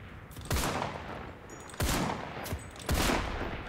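Mondragón M1908 rifle firing in Enlisted, three loud, sharp shots spaced over about three seconds, each followed by a brief decaying tail over background battle noise.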